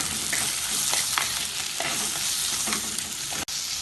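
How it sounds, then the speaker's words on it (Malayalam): Onion, ginger, garlic and chopped tomato sizzle steadily in a pan while a spoon scrapes and stirs them, a continuous close frying hiss with soft stirring strokes and one brief sharp knock near the end. "ഇതിന് ഇളക്കി വഴറ്റാം"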